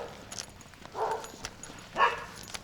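Dogs bark along a walk on a road trip in a van, two distinct barks about a second apart, moderately near, over faint background noise.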